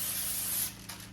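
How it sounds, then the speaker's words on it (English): Cooking spray hisses onto parchment paper for a moist birthday cake, a steady close burst lasting over half a second before it cuts off, followed by a fainter short puff. "I'm actually gonna spray some"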